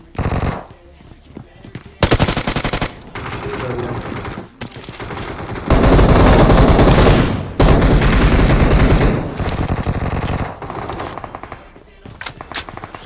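Automatic gunfire from a weapon in PUBG Mobile: loud rapid bursts of machine-gun shots come in stretches, one sustained dense volley in the middle, with brief gaps and scattered single shots near the end.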